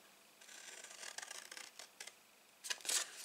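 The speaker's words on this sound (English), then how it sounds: "you're just going to take your snips and you're going to cut up this score line" Snips cutting through scored cardboard for a corner-lidded gift box: a close, crisp run of rasping snips and crunches that grows louder and busier toward the end.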